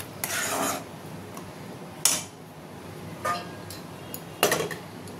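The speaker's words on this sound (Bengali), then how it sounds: "এবার এটা আমি ভালো করে কষে নেব তেল ছাড়া অবধি।" A spatula scrapes and clinks against a pan while spice masala with salt and sugar is fried until the oil separates. There are four separate scraping bursts at moderate loudness and nothing else.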